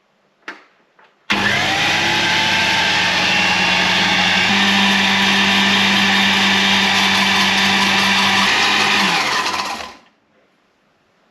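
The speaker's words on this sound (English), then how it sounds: "Half a cup of melted butter into the blender as it's running, slowly adding it so you make a nice sauce." Blender running loud and steady at close range for about nine seconds as melted butter is slowly poured in to make hollandaise sauce, starting abruptly and winding down at the end.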